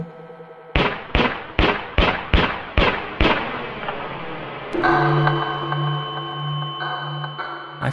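A rapid string of about seven sharp gun reports, evenly spaced and close, each with a short ringing decay, followed by a lingering sustained tone as the firing stops.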